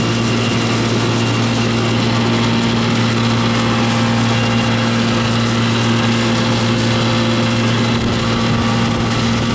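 A walk-in cooler's refrigeration compressor runs steadily at close range, a constant low mechanical hum with strong tonal drone and a broad hiss of airflow, unbroken and without speech throughout.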